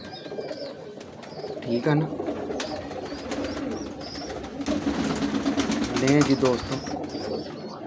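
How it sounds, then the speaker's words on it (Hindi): A Teddy breed pigeon coos in soft, repeated low bursts, close by, alongside some chirps from other birds, while someone talks over it. "ये टैडी कबूतर ही है"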